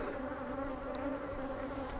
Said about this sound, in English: I think a lot of the bees buzzing me are just bees from